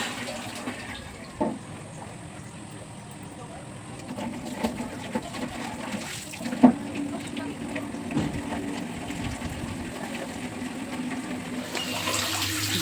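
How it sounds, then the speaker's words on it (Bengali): Iron-rich tap water runs fast into a basin at home, a continuous rushing fill under a low background hum, with a few faint knocks and a bird cooing in the distance. "এখন এই গামলাটা ভরতে দিলাম।"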